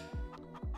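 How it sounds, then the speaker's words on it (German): Chickens on a farm in the Farming Simulator 22 video game, two short clucks about half a second apart, clear and close with nothing else over them. "hier haben wir schon die Hühner"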